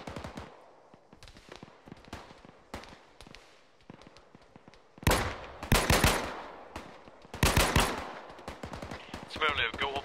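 Gunfire in the Arma 3 military video game, scattered distant shots at first, then loud bursts of rapid automatic fire close by, under voices talking.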